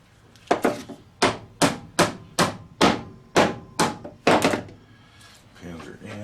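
Set pins are hammered into a handmade rasp chef's knife handle with about eleven sharp, close hammer blows, first a quick pair, then an even rhythm that ends in a tight cluster.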